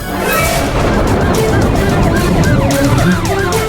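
A police jeep siren wails continuously, its rising and falling tones repeating over steady traffic and street noise, with voices faintly underneath.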